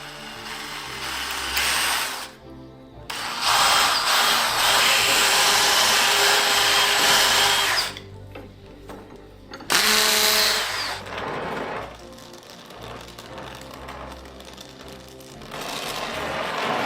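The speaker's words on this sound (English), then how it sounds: "now I just got to drill some basic holes" A power drill boring holes during a sword-forging build runs in loud sustained bursts, whirring for several seconds at a time with short pauses between, close to the microphone with no talking.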